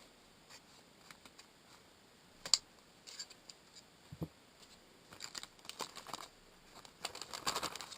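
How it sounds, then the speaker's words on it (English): Scissors cut the plastic zipper strip off a Ziploc bag, with faint, scattered snips and crinkles spread irregularly across a quiet background. "I'm just cutting off the zipper."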